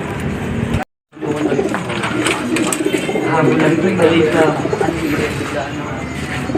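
Racing pigeons coo repeatedly close by at a loading station, soft throaty calls that continue under people talking, after a brief moment of silence near the start.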